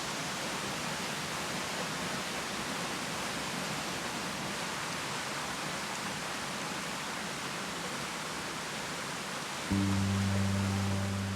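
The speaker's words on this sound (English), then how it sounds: "We're making our way to a waterfall" Rainbow Falls, a waterfall in a forest in the homeland of the Yugambeh, gives a steady, soft, broad rush of falling water heard from a distance. A brief tonal sound joins near the end.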